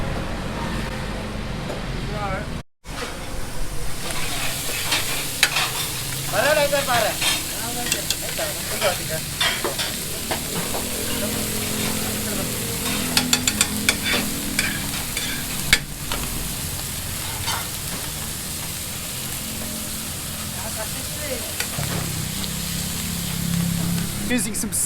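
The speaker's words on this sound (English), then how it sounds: "There's your parts of your sisig cooking right there." Sisig sizzles and fries over serious high heat at Aling Lucing's in Angeles, Pampanga, a loud, continuous hissing crackle with stirring and scraping, heard close up over steady kitchen background noise.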